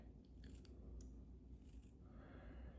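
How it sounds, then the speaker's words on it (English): Scissors snip through a tuft of fur being cut for a fishing jig, giving a few short, faint, crisp clicks close by over a quiet low background rumble, with no talking. "I use my bigger scissors for this."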